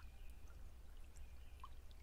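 Water flows softly near a bench outdoors, a faint continuous trickling and pouring murmur with a low rumble underneath and no voices.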